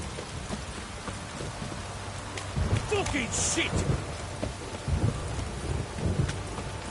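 Rain and rolling thunder in The Witcher video game, a steady wash of rainfall with low thunder rumbles swelling midway and again near the end, while a man swears loudly over it.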